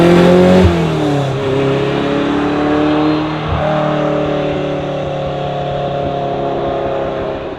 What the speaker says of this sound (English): I drive a 1977 Ferrari 308 GTB